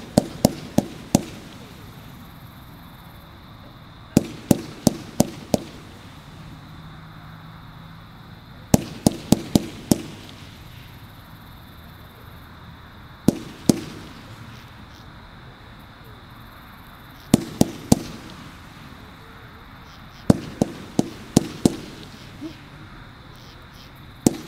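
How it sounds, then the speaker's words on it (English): Rapid bursts of Dancing Comets fireworks by Blastmaster cracking and popping in tight clusters, each volley followed by a pause, repeating about every four seconds over faint background noise. "How about them fireworks? Pretty cool, huh?"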